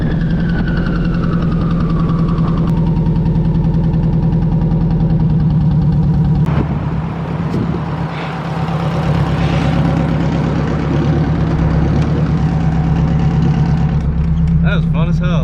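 The modified engine of an EG Civic hatchback revs loudly and continuously up close, a rough, throaty drone with rising and falling pitch and a brief dip midway.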